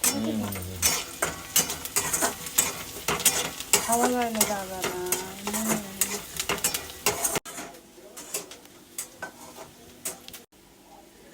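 Tempering made with coconut oil residue sizzles in a pan in a home kitchen, with a steady hiss, clinking utensils and stirring, while people talk over it.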